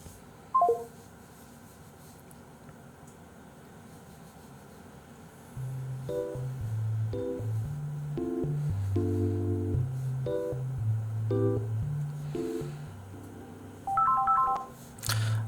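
Telephone keypad dialing tones: a run of short, evenly spaced two-pitch beeps sounds continuously for about ten seconds, clear and alone, after a brief click and quiet.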